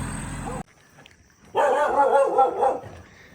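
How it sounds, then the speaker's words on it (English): A dog in Bangkok barks in a quick excited burst of several yaps after a brief hum cuts off, fairly close and clear. "there's a dog, he's gonna bark at us."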